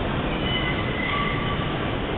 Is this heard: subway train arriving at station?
yes